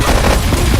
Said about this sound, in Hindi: अरे इतनी गोलियां क्यों चल रही है?